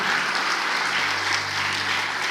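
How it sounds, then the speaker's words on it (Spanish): A church congregation applauding together in praise during a service, a dense steady wash of clapping that holds evenly from start to finish with no pauses. "Demos un fuerte aplauso al Señor"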